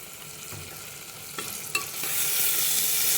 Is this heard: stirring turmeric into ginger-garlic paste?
yes